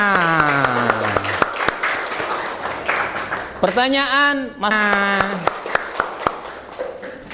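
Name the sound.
classroom applause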